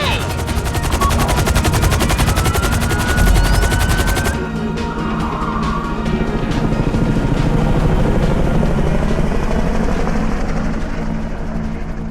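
A helicopter lifts off in the video game GTA 5 during a Fleeca bank heist. Dense rotor chopping and rapid bursts like gunfire fill the first four seconds, then a steady engine drone carries on loud and close.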